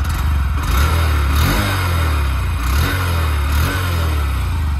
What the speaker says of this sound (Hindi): एक बार मैं आपको इसका एग्जॉस्ट साउंड सुनाना चाहता हूँ ये बाइक कैसा साउंड करती है आप एक बार सुन लो